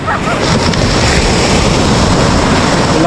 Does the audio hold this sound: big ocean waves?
yes